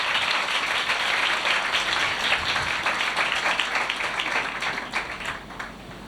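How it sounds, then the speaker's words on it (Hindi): A church congregation bursts into loud, sustained applause for Jesus, dense clapping from many hands that holds steady before gradually fading toward the end. "ज़ोरदार तालियां यीशु के लिए।"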